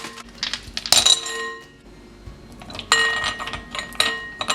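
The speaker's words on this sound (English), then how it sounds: "In a large bowl, add ice cubes." Ice cubes clink and rattle into a large bowl while whipped cream is being prepared, sharp bright glassy knocks in two quick bursts separated by a short lull, close and distinct.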